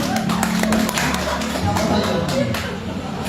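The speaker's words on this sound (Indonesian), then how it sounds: "Boleh tepuk tangan untuk." Onlookers at a live card-magic show in a roadside coffee shop applaud a trick, with quick steady clapping and tapping layered under chatter and a low background hum throughout.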